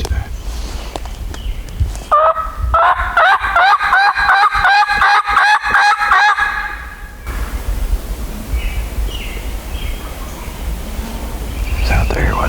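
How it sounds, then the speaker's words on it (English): Wild turkey gobbles in cold, windy weather, a rapid rattling burst of gobbling mid-clip, close and loud, set against steady wind noise with brief rustling and human voices nearby. "He's gobbling, so that's a good sign."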